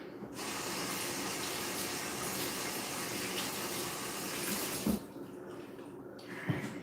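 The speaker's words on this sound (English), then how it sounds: "Let me rinse this off a little bit." Kitchen tap water runs steadily into a sink while a fork is rinsed, a continuous gushing stream for about five seconds before it shuts off, followed by faint clinks.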